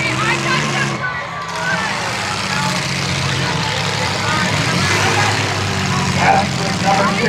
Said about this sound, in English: I hear the engines revving.